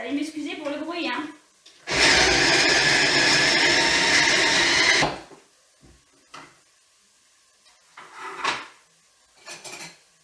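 Electric grinder blending tomatoes in a home kitchen, a loud whirring burst lasting about three seconds, preceded and followed by clinking dishes and utensil handling.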